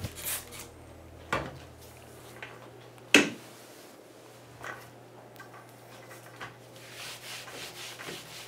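Soft rubbing and wiping of a cloth with pink disinfectant cleaner down a toilet from top to bottom in a hotel bathroom, quiet and close, with a couple of sharper knocks and a low steady hum underneath.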